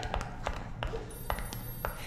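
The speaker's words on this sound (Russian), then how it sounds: "Это же звонок. Междугородний." A telephone rings with a long-distance call, a series of short repeated electronic pings in a quiet room, spaced evenly through the moment.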